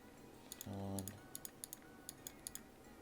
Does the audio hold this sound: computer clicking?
yes